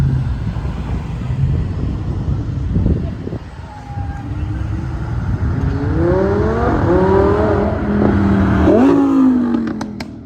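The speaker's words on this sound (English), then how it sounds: "Here comes a Huracan." A Lamborghini Huracan supercar accelerates past at a supercar cruise, its engine note climbing through rising revs over crowd chatter and the rumble of other cars, growing loud and close toward the end.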